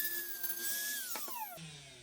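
A small high-pitched rotary tool whines as it sands a Tomica Mercedes-Benz 300L model car, its pitch dipping under load and then rising again, fairly quiet and close.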